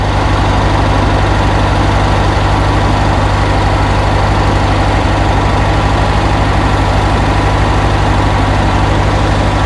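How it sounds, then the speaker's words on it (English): A fuel-injected 1975 VW Beetle engine idles low and steady, a constant throbbing rumble with a dense, even pulse that holds unchanged throughout, loud and close with no voices. "this is as low as I can get it idle now, which is a lot lower than it was."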